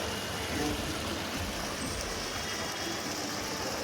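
Water pours continuously into the Banganga kund stone tank in Walkeshwar, Mumbai, giving a steady, dense rush that stays level throughout, with faint voices in the background.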